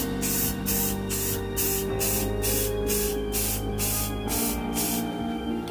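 Spray paint hisses onto a car wing extension for a light first coat, in rhythmic short bursts with quick pauses, close up and without voices.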